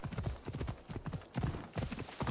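Rhythmic clip-clop of horse hooves at a steady trot in Assassin's Creed Odyssey, moderately close and continuous, with brief pauses between strides.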